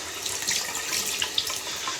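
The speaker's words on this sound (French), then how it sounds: "Ok, mon robinet a pas l'air de fonctionner." A water tap running into a sink in a military school dormitory room, a steady hiss of flowing water with small splashes and spatters, moderately loud and alone.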